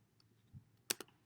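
A few sparse keystrokes on a computer keyboard, a quiet tap followed by two sharp clicks close together, faint and alone in a quiet room.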